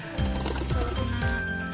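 Racing pigeons cooing in low, repeated warbling calls close by, over a constant background hum.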